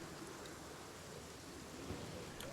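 Steady rain falls in a farming video game, a soft, constant hiss with faint low rumble underneath, quiet and even throughout with no voices.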